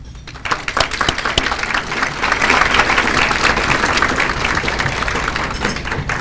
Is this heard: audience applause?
yes